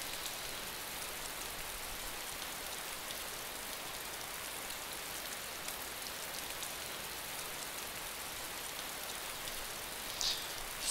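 Steady rain falls in the survival video game DayZ, an even, dense hiss of drops that holds at a constant level with no talk, with only a brief faint click near the end.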